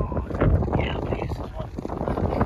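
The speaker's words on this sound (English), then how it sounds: "The wind is relentless." Strong crosswind at 15 to 20 mph blows across an airfield, a rough, buffeting rush that fills the whole clip while a person talks.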